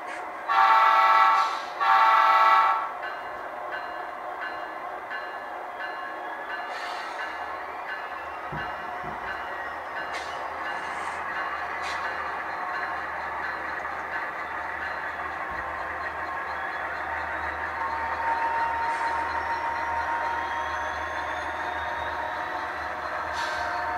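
Model train locomotives descend a grade under dynamic braking on a layout, opening with two loud horn blasts, then a long steady electric whine and rumble with faint clicks as the train slows.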